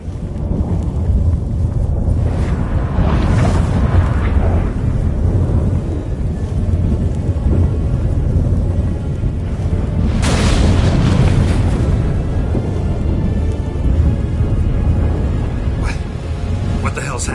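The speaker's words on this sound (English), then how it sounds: "What the? That a storm?" Thunder booms and deep rolling rumble from a storm in The Witcher 3 video game, loud and sustained with heavy low-end swells, mixed under in-game dialogue.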